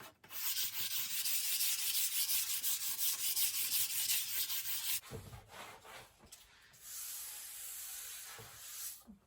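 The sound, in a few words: light sanding of wood between coats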